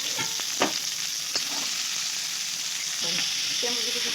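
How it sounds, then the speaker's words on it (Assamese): Onion frying in refined oil for momo filling hisses in a steady, fairly soft sizzle, with a few brief clinks of a utensil against the pan and faint voice-like sounds in the background. "ৰিফাইন দিয়া হৈ গ'ল, ৰিফাইনত পিঁয়াজ দিলে"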